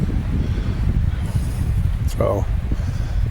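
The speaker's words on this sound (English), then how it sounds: "the wind blowing and all that" Steady low wind rumbles and buffets the microphone throughout at a misty riverside campsite on the North Fork of the Coeur d'Alene River, with a brief voice cutting in near the middle.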